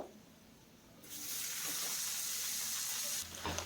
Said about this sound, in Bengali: এখন সবজিটাকে দিয়েও এইভাবে দুই মিনিট একইভাবে ভেজে নেব